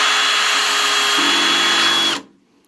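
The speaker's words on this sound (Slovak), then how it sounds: "Budem skrutkovať tieto malinké skrutky, postupne zvyšovať silu." A Parkside Performance 12V cordless drill whirs steadily, driving tiny screws for about two seconds, its pitch dropping slightly midway before the motor cuts off abruptly.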